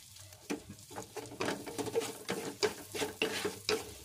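Garlic cooking in a pan for a shrimp dish, with a low steady sizzle under repeated scraping and stirring strokes at a fairly even rhythm, close by and with no talk.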